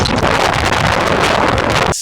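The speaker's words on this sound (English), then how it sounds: "So windy there, man." Strong wind buffets the microphone outdoors during a bike ride, a loud continuous roar with gusty swells that cuts off abruptly at the end.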